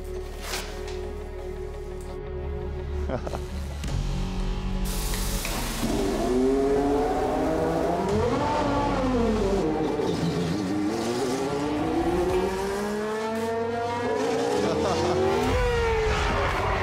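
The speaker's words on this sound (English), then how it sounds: "Red Bull Racing, two-seater Formula One car." Red Bull two-seater Formula One car lapping the Red Bull Ring, its high-pitched engine screaming and sweeping up and down through gear changes, loud and close throughout.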